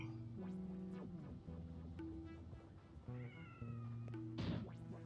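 Cat meows in the video game Quantum Conundrum: several drawn-out, tonal meows and a caterwaul-like cry over a steady background hum of game music, fairly quiet overall, with no speech.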